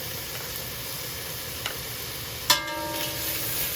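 Garlic drops into caramelized onions in a pan for Hungarian beef goulash, with a steady soft sizzle, a small tap, then a sharp metallic clink and a brief swell of frying, close by.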